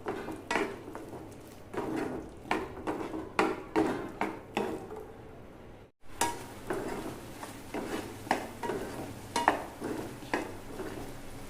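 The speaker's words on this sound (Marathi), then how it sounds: "तर आता ही कालवं मी परतून घेते." Clams sautéing in a pan for a fresh cashew-nut curry, with a utensil clattering and scraping in close, uneven strokes over a soft, steady sizzle and a brief break midway.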